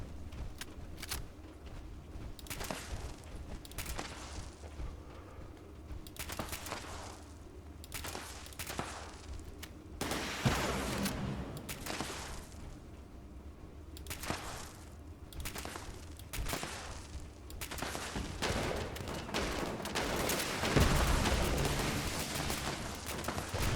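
In Fallout 76, a Fixer rifle fires repeated bursts of gunshots, some rapid and some spaced, over a steady game background, fairly quiet and with no talking.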